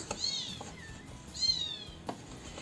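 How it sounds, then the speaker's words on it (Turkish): Two high, thin meows a second apart from kittens in a garden, fairly close, with a soft clatter in the quiet background. "Bu arada bahçemizde kedi yavrularımız var. Onların sesleri geliyor size tabi arada."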